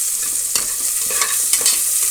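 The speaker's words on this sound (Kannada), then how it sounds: "ಈಗ 2 ಈರುಳ್ಳಿ ಕಟ್ ಮಾಡಿರೋದು ಉದ್ದಕ್ಕಿರೋದನ್ನು ಹಾಕ್ತಾಯಿದ್ದೀನಿ." Two long-sliced onions fry in oil in a pressure cooker for paneer dum biryani, giving a loud, continuous sizzle with repeated scraping stirs close by and no talk.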